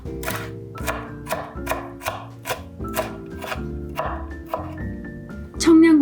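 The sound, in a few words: finely chopping half a red chili with a knife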